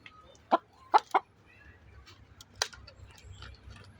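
Farm chickens cluck in a few quick, close bursts while feeding, with a fainter call a moment later over a low background hum.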